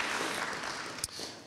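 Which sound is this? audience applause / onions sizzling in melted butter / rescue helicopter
audience applause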